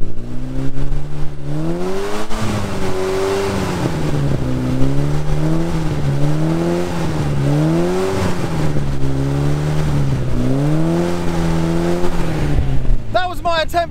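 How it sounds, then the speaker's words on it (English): A car engine, its throttle cable driven by a theremin through electronics, revs in long wavering swells, rising and falling like a played melody, loud and close, with brief talk at the very end. "To plug a theremin via some electronics into the throttle cable of my car."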